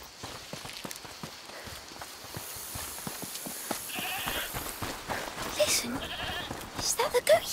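A goat bleats in the video game A Plague Tale: Requiem, with short bleats standing out near the end over a steady rhythm of hoof-like clip-clops and footsteps, and people talking underneath.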